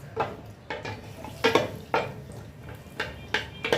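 A spatula clatters and scrapes in a hot pan as large pieces of uncrushed garlic go in for a vegetable and fish stir fry, with a string of sharp metallic knocks at an irregular rhythm.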